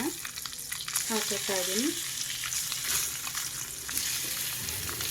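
Boiled eggs fry in hot oil with chilli powder in a pan while being cooked for Indian egg kadai masala. A steady close sizzle runs throughout, broken by stirring scrapes, and a person speaks briefly near the start.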